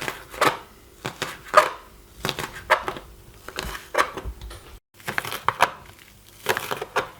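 A knife chops ingredients finely on a cutting board, sharp wooden knocks landing in quick bursts of several strokes with short pauses between, close and clear with no talking.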